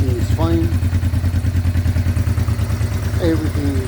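A Honda Deauville 650 motorcycle idles steadily up close, its low engine drone continuous throughout, with brief higher pitched sweeps near the start and end.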